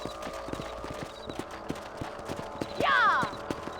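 Horse hooves trotting in Red Dead Redemption on a ranch: a steady, evenly spaced clip-clop runs throughout, with a short horse whinny near the end and faint background voices.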